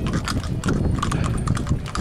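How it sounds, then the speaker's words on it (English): Heavy shire horse hooves clip-clop on a hard surface in a steady walking rhythm, close by and fairly loud, with background noise beneath, at a harness horse parade. "Young Cone, our first heavy horse, first shire horse."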